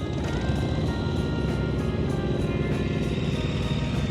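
A motorcycle engine runs steadily at a practice session, a continuous droning hum with slight throttle variation, moderately close and without talk.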